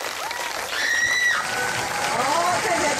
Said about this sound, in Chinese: 请掌声鼓励他们。